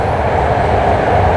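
BART subway train running loudly, a constant close roar with a low rattling rumble, heard alone in a short burst.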